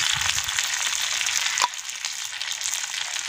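Vanjaram fish frying in a pan over a village cooking fire, with a steady, close oil sizzle that runs throughout and one sharp tick near the middle.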